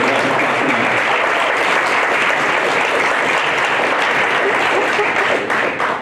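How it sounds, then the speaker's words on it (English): Loud, continuous applause from a school audience honouring a group of students at a State of the Schools performance, steady throughout and tapering slightly at the end. "Let's give them a round of applause also."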